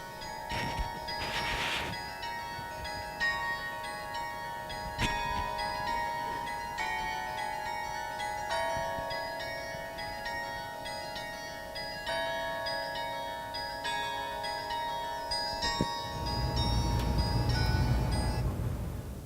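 Tower bells ringing on a campus, a sustained wash of overlapping tonal peals with struck onsets recurring throughout, steady and moderately loud, with a broadband rumble near the end.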